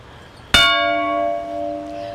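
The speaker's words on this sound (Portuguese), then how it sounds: "toda vez que você vê um sino numa praça, toque." A bell at a peace monument in a São Paulo square is struck once, giving a bright, clear clang that rings on with a long, steady, slowly fading tone.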